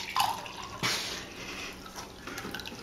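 Water poured from one cup into another, with a brief splash and then a soft, steady trickle close by.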